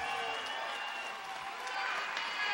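Crowd at an MMA event applauding the fighters after the bout, a steady wash of clapping and murmur that swells slightly toward the end, with no clear voices on top.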